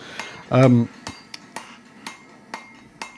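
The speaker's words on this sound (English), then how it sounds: "Using a rounding hammer here," Rounding hammer forging a steel cutlass guard on an anvil, one loud ringing metallic strike followed by a series of lighter, evenly spaced taps, close up.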